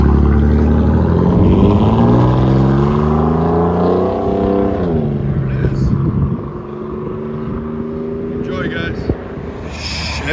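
A Chevy S10 pickup with a 4.3L V6 and straight-pipe exhaust idles and revs close by, its deep engine drone rising in pitch then settling back, while someone talks over it.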